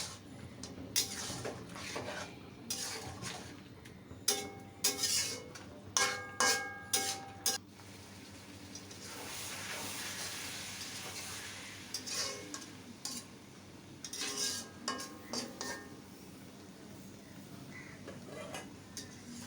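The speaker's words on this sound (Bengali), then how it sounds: "এখন নেড়ে চেড়ে নেব।" A spoon stirs hilsa fish head and Malabar spinach curry in a pot, making bursts of clinking and scraping against the metal in uneven clusters over a quiet simmering background.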